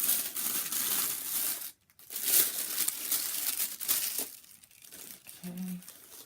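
Plastic packaging crinkles and crumples close by as Gucci shoe bags are unwrapped, a busy rustle that pauses briefly and then continues more softly.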